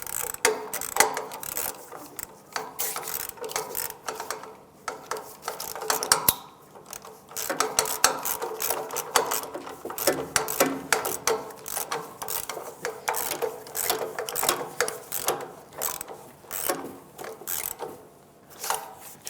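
Socket wrench ratcheting a mounting nut on the catalytic converter of a 1998-2002 Lincoln Navigator, giving rapid, close clicking in repeated bursts with short pauses as the handle swings back and forth.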